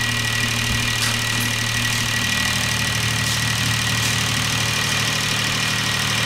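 A steady engine hum of a Konrad-Weigel KWE 7,5G-3 AP combined heat and power unit drones on without a break, a constant mechanical rumble with a high whine on top.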